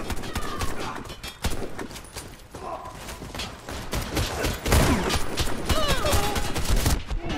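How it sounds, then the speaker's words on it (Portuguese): Video game gunfire comes in rapid irregular bursts of sharp cracks and thumps, loud and close, repeating through the stretch over a dense background of game noise. "De onde que eu tava tomando esses tiros"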